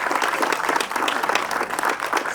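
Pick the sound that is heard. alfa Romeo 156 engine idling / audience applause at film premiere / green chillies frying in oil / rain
audience applause at film premiere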